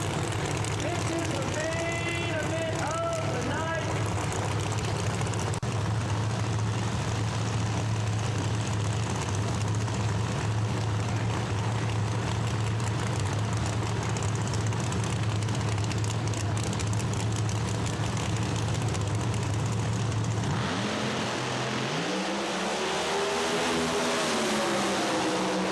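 Drag race audio from New England Dragway plays throughout, a dense roaring wash of engine noise holding steady for about twenty seconds before cutting off abruptly into quieter ambience, with a brief voice-like warble early on.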